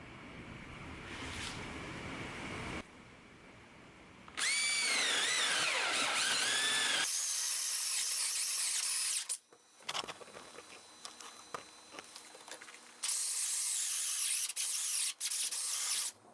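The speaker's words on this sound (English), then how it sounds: "I'm going to use an 1 1/2 inch Forstner bit" A 1 1/2 inch Forstner bit bores a round hole through wood for a bluebird house, with the loud drill whine starting and stopping in several bursts alongside brief handling and scraping noises.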